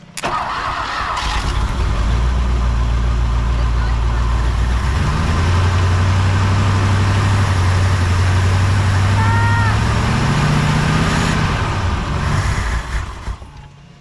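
A 1959 Ford Thunderbird, parked for 33 years, cranks and fires up into a loud, steady rumbling idle with a revving swell midway, close by, while people talk briefly over it.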